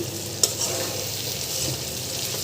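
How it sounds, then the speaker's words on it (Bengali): Potatoes and flat beans dropped into a pan where fish is already frying, a steady close sizzle with one brief sharp clatter early on, then continuous frying hiss. "মাছটা আগে কষিয়ে নিলাম, তারপরে এখন দেব আলু, সিম"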